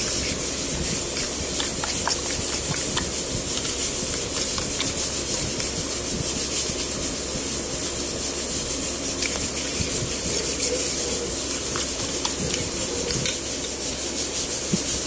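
Crab omelette ingredients with shredded crab being mixed in a bowl, a continuous rough scraping and stirring rustle, close and steady throughout without pause.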